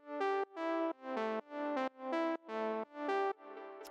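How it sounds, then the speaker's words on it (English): A simple analog synth lead plays eight short, bright notes in an even rhythm, the last one softer and more diffuse, heard close and alone. "So then the next thing that we have here is this little lead, which sounds like this."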